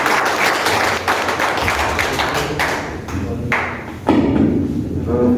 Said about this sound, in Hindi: जोरदार ताली मैडम से।